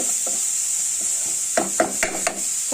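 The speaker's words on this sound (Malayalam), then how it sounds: "നമ്മുടെ ഉള്ളിയും ഒക്കെ ജസ്റ്റ് ഒന്ന് മൂപ്പിച്ചെടുക്കണ്ടേ" Onions sauté in a hot pan for a jackfruit-seed thoran, a steady sizzle running throughout while a few spoon scrapes and stirring knocks cluster toward the end.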